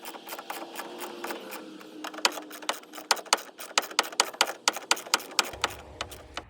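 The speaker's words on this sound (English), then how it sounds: "Grab your ratchet and socket." A ratchet and socket tightening tail light bolts on a 2011-2016 Ford F250 Super Duty: a close, crisp series of evenly spaced clicks that speeds up and grows louder partway through, with no speech.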